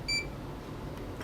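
Short continuity-tester beep while probing a ground wire inside a PC Engine / TurboGrafx-16 game console, a single clear high electronic tone lasting a fraction of a second over quiet room hiss.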